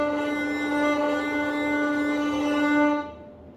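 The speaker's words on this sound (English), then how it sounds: "If the bow starts at the bridge side, it sounds like this." Single sustained violin note bowed close to the bridge, a bright harmonic-rich tone held steady for about three seconds, then cut off and left to ring briefly into room quiet.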